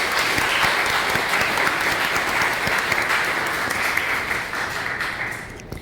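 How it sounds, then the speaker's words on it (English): A large audience at a 2018 school graduation ceremony applauds the students in a steady, dense wash of clapping that holds at an even level for several seconds before easing slightly near the end. "I'd like to give the students all a round of applause for these particular contests"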